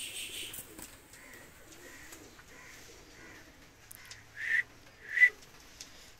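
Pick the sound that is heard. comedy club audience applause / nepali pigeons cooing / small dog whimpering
nepali pigeons cooing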